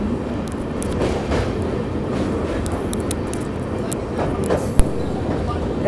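The Humsafar Express crosses the Nasipur railway bridge at night with a steady, loud rolling rumble from inside the train, broken by scattered metallic clicks and one sharp knock near the end.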